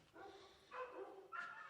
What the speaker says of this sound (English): You can hear the dogs.